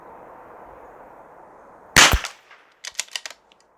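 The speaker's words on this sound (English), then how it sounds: "I'm going to take a couple more shots at the other ones" Rifle shots ring out while boresighting a rifle: one sharp loud crack with a quick echo, then a short cluster of quieter rapid pops, over a faint hiss.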